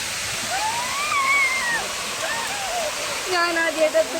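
A waterfall deep in a forest roars as a constant broadband rush, with a voice heard over the water throughout.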